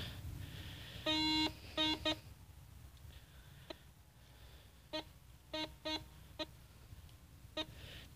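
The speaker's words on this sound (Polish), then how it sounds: "Solferno coś tam próbuje złapać. Są jakieś takie pojedyncze sygnały." Solfernus v2.6 metal detector giving short, separate electronic beeps during a ground test, a few longer tones early then scattered single blips over a low background hum.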